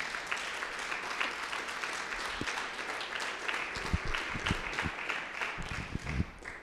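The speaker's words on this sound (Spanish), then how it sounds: "Un aplauso a Jesús que vive." Church congregation applauding during a Spanish-language worship service, steady dense clapping throughout with a few louder individual claps near the end.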